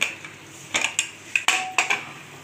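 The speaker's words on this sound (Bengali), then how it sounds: "আমি এবার প্রেসারটা মুখটা আটকে দিচ্ছি।" A metal pressure cooker lid, being fitted on a pot of vegetarian ghugni, clanks and clicks in several short sharp metallic knocks with brief ringing, close and alone.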